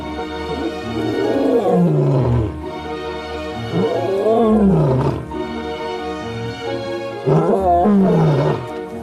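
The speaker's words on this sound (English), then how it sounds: "Juveniles rarely roar, but when they do, it's often full of meaning about their pride, their alliances, and strengths." A juvenile lion on the African savanna roars repeatedly, with three deep, drawn-out roars rising and falling in loud, close bursts separated by short pauses.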